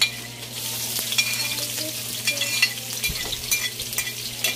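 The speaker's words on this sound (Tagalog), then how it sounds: "Nang ilalagay yung ating sibuyas, bawang at luya. Sasabay-sabay na po natin itong igisa." Chopped onion, garlic and ginger sautéed together in hot oil for a tinola, giving a continuous close sizzle with irregular stirring scrapes and clicks over a low steady hum, no voices.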